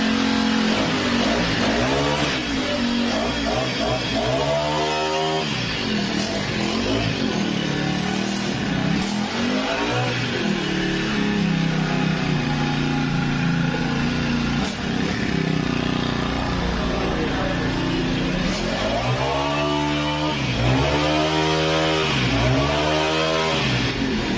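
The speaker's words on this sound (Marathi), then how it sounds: "ब्रश कटर रोटावेटर खुरपणी यंत्र आहे" A small two-stroke brush cutter rotavator weeder engine runs continuously, revving up and down several times with a buzzing, whining tone, loud and close.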